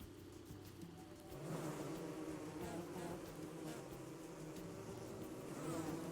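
A close, droning buzz of bees in the video game Don't Starve, steady and continuous, swelling slightly louder after the first second and holding on.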